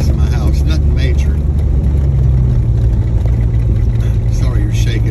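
A Jeep rolls along a dirt road with a steady low engine drone and continuous rumble of tires over the rough surface, constant and fairly loud throughout with faint higher rattles over the top.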